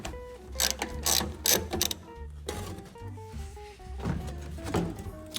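A seized bolt being loosened on a rusty Toyota 4Runner, with loud, close ratchet clicking in quick rhythmic bursts and grinding mechanical creaks that carry on throughout.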